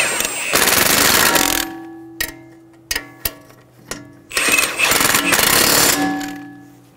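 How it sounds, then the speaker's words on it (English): Nuts being snugged onto the bolts of a wheel hub knuckle assembly on a 2007-2011 Toyota Camry: two bursts of rapid rattling impact-tool ratcheting, separated by several sharp metallic clicks and taps. "Snug down the nuts."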